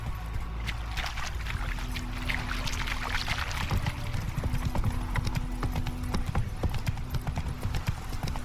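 Horse hooves in The Witcher 3 video game, a brisk steady clip-clop of riding hooves repeating evenly throughout, fairly close, with faint ambient background.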